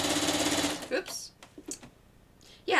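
A home sewing machine quilting with a new, oversized quilting foot runs in a loud, fast steady whir for under a second, then stops and leaves quieter rustles and brief speech.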